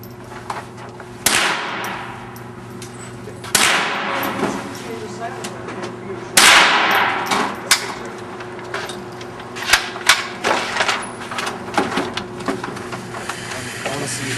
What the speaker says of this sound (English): Ready to fire.